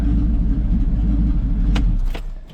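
A 1979 GMC Vandura van's engine with a new exhaust idles nearby in a low, steady, burbling rumble that fades slightly at the end, with a couple of brief clicks.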